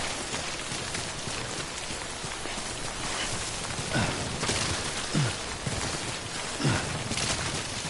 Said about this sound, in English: Don't stay out in the rain any longer.